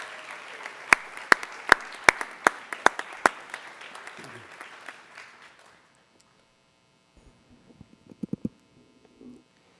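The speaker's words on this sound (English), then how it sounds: "Students, if you would please give your parents a round of applause" Students at a high school excellence-in-education celebration clap for their parents: a handful of sharp, scattered claps that thin out and fade to near silence, followed by a few faint late claps.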